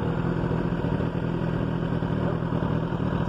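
A carbureted 2002 Kawasaki ZX9 motorcycle engine runs at a steady idle, a continuous close, loud rumble with a faint mechanical clatter throughout.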